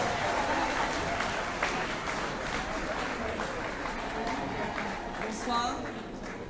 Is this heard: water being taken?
no